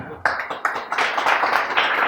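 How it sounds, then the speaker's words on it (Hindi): Loud applause from an audience at a live conversation event, a dense patter of many hands clapping that swells and continues steadily after a sharp start. "तालियां जोरदार"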